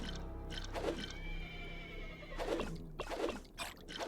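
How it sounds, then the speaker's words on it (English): Horses neigh and whinny in the fantasy game Stoneshard, with two or three clear calls rising over a low steady background ambience. "The horses are going to alert everybody to my presence."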